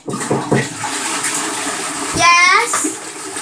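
A household toilet flushes in a loud, close rush of swirling water that swells mid-way, while people talk over it.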